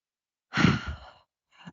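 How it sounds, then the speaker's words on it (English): A single long, breathy snore from an elderly dog followed by a shorter, softer one after a pause, close by with no talking. "I have 2 of my dogs with me and they're snoring in the background."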